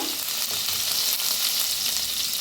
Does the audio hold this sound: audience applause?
no